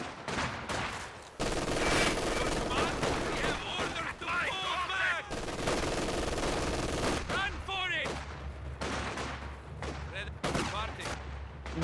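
Nishka heavy machine gun bursts from Company of Heroes 2, mixed with other gunfire and explosions in a busy battle, loud and dense with repeated sharp volleys over several seconds, with voice lines and talk over the top.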